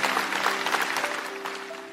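Church congregation clapping together in an Indonesian worship service, a dense close burst of applause that tapers off slightly over two seconds while sustained tones hold underneath.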